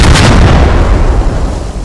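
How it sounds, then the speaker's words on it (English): Continuous heavy explosions of enemy materiel being blown up in the Squad military shooter game, a loud rumbling barrage that stays dense and booming throughout with no pauses and no talk. "each of those generates its own explosion when it, is blown up"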